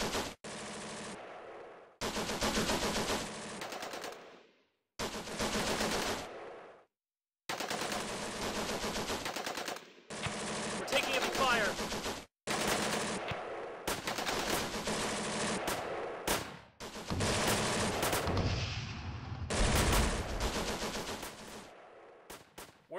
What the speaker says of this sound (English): We're taking heavy fire!